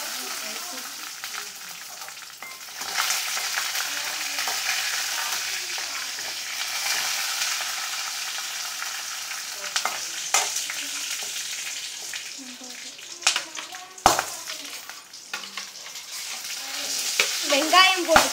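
Red chillies fry in a pan for pudina chutney, a sustained crackling sizzle broken by repeated spatula scrapes and clinks against the pan, with a louder knock toward the end.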